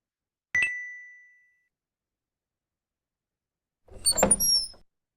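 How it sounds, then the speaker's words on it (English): A door opens in a ladybug tree house learning game, marked by a short bright chime that rings and fades, then after a pause a brief, busier burst of sliding and clattering effects. "the student asked to open the door"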